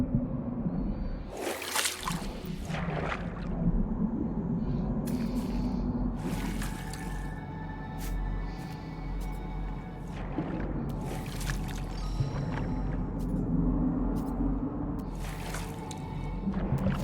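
Water in the No Man's Sky video game laps and sloshes at a beach, with drips and splashy liquid movement. The wash is continuous and fairly quiet and runs throughout, with scattered brighter splashes.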